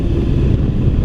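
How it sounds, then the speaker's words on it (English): Steady, loud wind roar buffeting a motorcycle helmet while riding a 2016 Suzuki V-Strom 1000, a dense low rumble that fills the short stretch without a break and with no speech. "I'm still hearing a lot of wind noise in the helmet too"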